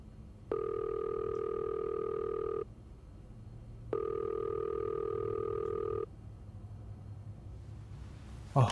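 Unanswered telephone ringing in the video game Fifth Floor: two long electronic ring tones of about two seconds each, separated by a pause, with a low hum underneath and no voices.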